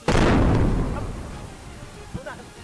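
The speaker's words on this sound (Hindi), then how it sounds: "एडन एयरपोर्ट पर मंत्रियों के विमान के ठीक सामने जोरदार धमाका हो गया" A bomb explodes at Aden airport in front of a ministers' plane, one loud, close, booming blast with a long rumbling decay, followed by faint voices.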